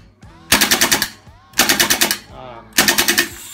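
A Fighting Bro Glock G18C gel blaster fires three short full-auto bursts of rapid, loud, close snapping shots, with brief pauses between them and a faint voice in the quieter gaps.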